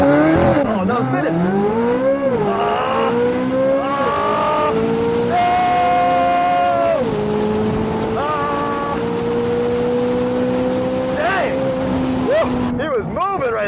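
A C8 Corvette Z06 and a McLaren 570s drag race, with a loud engine roaring up through the gears with sharp shifts, tire noise and a long pull, close and dominant.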